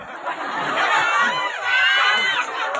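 Children's crowd at a school colour sports day cheering and shouting loudly and continuously, a dense mass of young voices rising and falling in waves.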